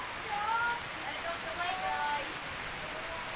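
Rain falls steadily during a birthday party buffet, a soft broadband patter with muffled voices and faint tonal sounds in the background.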